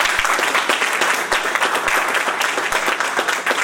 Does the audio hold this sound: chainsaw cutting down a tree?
no